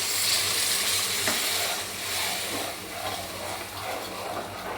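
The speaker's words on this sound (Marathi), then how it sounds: "चिंचेचा कोळही टाकून घेत आहे आई," Tamarind pulp added to a hot tempering of spices with a small lump of jaggery, sizzling and frying in a pan with a steady, close hiss and occasional stirring scrapes throughout.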